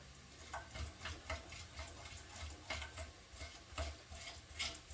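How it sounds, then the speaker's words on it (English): A knife edge grinds chopped garlic with coarse kosher salt on a cutting board, making soft, rhythmic scraping strokes, close and quiet, with no talking. "we're just gonna grind the garlic"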